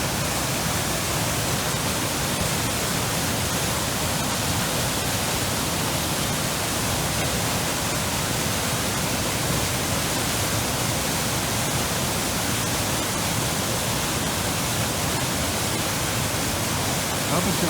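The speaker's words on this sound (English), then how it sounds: "this offshoot of the trail comes to an end at this remarkable waterfall" Waterfall at the Fairy Pools on the Isle of Skye, a constant, loud roar of rushing water with an even, unbroken hiss from start to finish.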